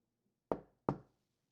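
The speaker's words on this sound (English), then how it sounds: "there was a knock at the door" Two crisp knocks on a door, evenly spaced, close and sharp against near silence.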